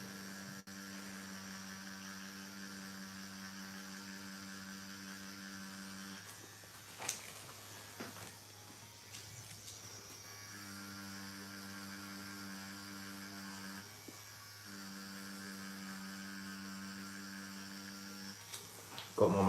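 A tattoo machine hums steadily at close range, running in long stretches with two short breaks, under a quiet room.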